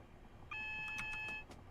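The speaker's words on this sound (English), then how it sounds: "What are you beeping at me for, AWS?" An AWS warning tone in a UK train cab in Train Simulator 2018, a single steady electronic beep of about one second at moderate volume over a low rumble, with faint clicks around it.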